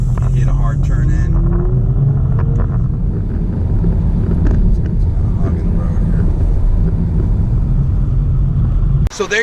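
A 2018 Audi S5 Sportback on a test drive, its steady engine and road rumble droning loud and close inside the cabin for the whole stretch before cutting off abruptly at the end.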